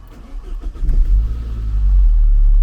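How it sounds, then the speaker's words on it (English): A rescued Saab 9-3 with a freshly recharged battery cranks briefly with a few clattering turns, then catches and settles into a loud, deep idle, close by. "Yeah, it started."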